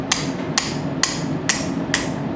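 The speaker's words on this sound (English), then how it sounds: "Alright, so now I'm going to use my cross peen." A cross peen hammer strikes hot metal while forging a split cross, five evenly spaced ringing blows, sharp and close, over a low steady background hum.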